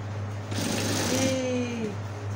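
A domestic sewing machine with an unusual tension system runs briefly after being taken apart for repair, giving a steady mechanical hum with a rising whine and a few uneven knocks, close up.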